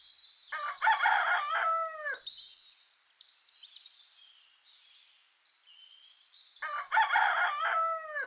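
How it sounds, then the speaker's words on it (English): A rooster crows twice, each a loud, full cock-a-doodle-doo, separated by a few seconds of quieter background birdsong and chirping. "Rooster."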